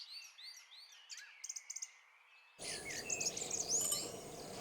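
Birds chirp and tweet repeatedly on a quiet morning by a narrow village road in rural Bangladesh, with rapid trills, then a steady hiss of breeze and insects joins in.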